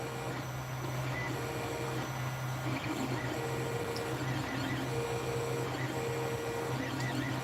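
A 3D printer runs a print in steady continuous mechanical whir, with faint stepper-motor tones rising and falling across the stretch and no talk.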